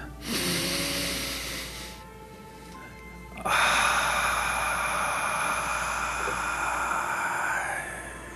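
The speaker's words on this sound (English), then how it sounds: "Nice deep breath in through the nose." A deep, audible breath drawn in through the nose during a guided sunset breathing session, a long steady inhale rising over soft background tone, close and fairly loud, with no talking.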